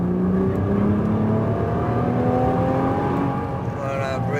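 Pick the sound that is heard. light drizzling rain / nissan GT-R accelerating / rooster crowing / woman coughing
nissan GT-R accelerating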